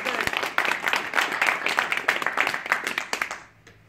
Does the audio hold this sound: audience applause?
yes